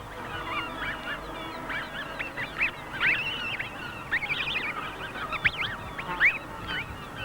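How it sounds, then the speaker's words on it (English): Snow goose goslings, both blue and white, honk and peep on the open tundra in a scattered run of high, wavering calls over a low background rumble, moderately close. "These included both blue and white goslings."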